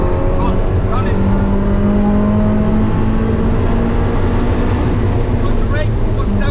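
Supercharged 350 hp Mazda Miata accelerating hard on the Nürburgring, its engine droning steadily and loud from inside the cabin under constant road and wind roar, with a driver's voice talking over it.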